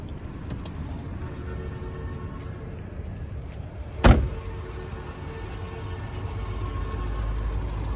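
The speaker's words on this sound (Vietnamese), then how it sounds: "gương điện và kính điện mọi người" Electric windows and power mirrors on a 2009 Hyundai Getz hum steadily inside the car, with a sharp click or thump near the middle and a low motor drone throughout.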